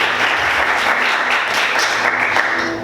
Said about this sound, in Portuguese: Vamos aplaudir Jesus bem forte, glória a Deus.